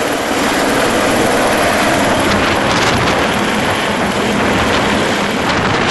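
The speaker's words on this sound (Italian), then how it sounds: "L'elicottero ha fatto una 50 di lanci al momento" A firefighting helicopter flies over a wildfire in the Veneto region, making a loud, steady rotor roar with wind buffeting. The sound is continuous for the whole stretch and there is no talk.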